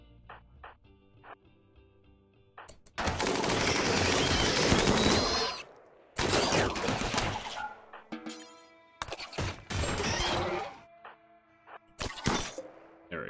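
Turret gunfire in the RimWorld video game during a tomb world survival battle against large bugs: loud, dense broadband bursts of several seconds each, separated by short quieter gaps, with sharp impacts between them.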